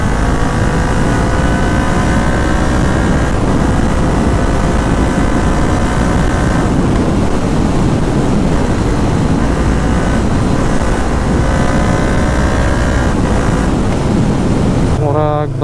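A Yamaha MT03 motorcycle rides with loud, steady engine drone and rushing wind, its engine tone wavering as the rider travels on wet roads, with no talking.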